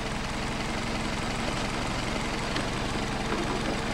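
An engine fitted with a Solex carburetor idles steadily at about 600 rpm, a loud, constant, close rumble with no voice over it.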